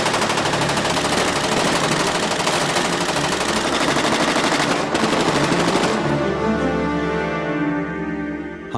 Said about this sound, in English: prisoner into Agent Ray Caffrey's Chevrolet, gunmen appeared out of nowhere, and all hell broke loose